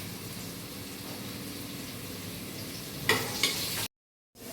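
Onions sizzle and fry steadily in a pan for vegetable pullav, a soft, even crackle near the mic, with a brief louder stirring clatter before the sound cuts out abruptly.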